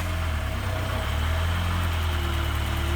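A car engine runs at a steady idle close by, giving a continuous low rumble with a slight vibrating hum and no voices.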